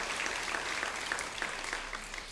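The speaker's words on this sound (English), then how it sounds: "Give them a round of applause on the size" Brief burst of clapping from a luncheon audience at a Habitat Women Build event, a moderately faint, steady patter of many hands, heard alone.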